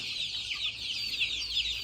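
Young desi chicks peep in a steady stream of high, thin chirps, many overlapping calls close by at moderate volume.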